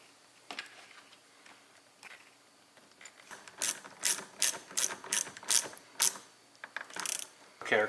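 Ratchet tightening the power wire terminal on a Warn winch being installed on a Honda Pioneer UTV, with faint rustling first and then about ten sharp, close clicking bursts in quick succession.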